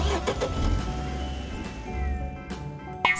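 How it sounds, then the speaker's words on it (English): A car engine starts and revs briefly beneath upbeat children's song music, a short mid-pitched motor rumble mixed into the track. "C is for car."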